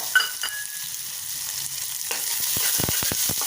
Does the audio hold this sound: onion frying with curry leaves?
yes